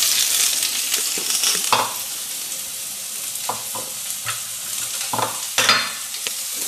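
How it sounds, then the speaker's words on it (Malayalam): Green chillies and vegetables sautéing in a pan for sambar, a steady close sizzle with intermittent scrapes and stirring knocks of a spoon against the pan, no voices. "പച്ചമുളക് ഇത്ര ഇട്ടിട്ട് പിന്നെ വെജിറ്റബിൾ ഇട്ട് നന്നായിട്ട് ഒന്ന് വഴറ്റണം"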